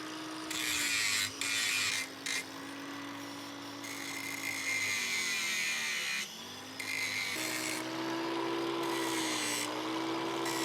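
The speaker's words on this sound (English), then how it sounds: "we can take a cutting disc and just flow the tentacles into the body, rather than it being sort of like a sudden weld" A cutting disc grinds on forged metal octopus tentacles, blending them into the body with a high whining buzz that rises and dips in pitch, interrupted by several short pauses.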